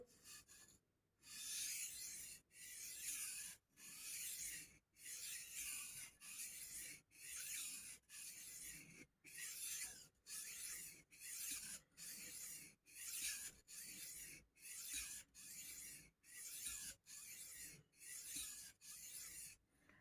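Old Hickory Ontario hunting knife being sharpened, rhythmic rasping strokes of steel on an abrasive, about twenty even passes with short gaps between, close and clear with no talk.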